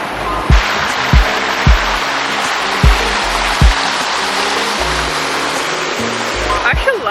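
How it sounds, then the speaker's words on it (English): A loud waterfall roars as a steady broadband wash of falling water after rain, close and constant throughout, with someone talking over it in short bursts. "I'm sorry if you can't really hear me because the waterfall loud."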